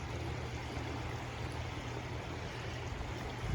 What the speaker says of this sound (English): As you can see, the river's getting wider as it makes its way to Lake Superior.